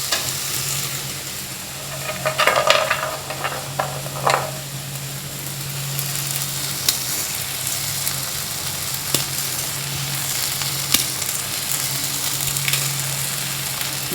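Greens with brinjal and crumbled fried lentil badi are stir-fried in a pan: a steady low sizzle with intermittent scraping and stirring clatters from a spatula, close up and with no talking.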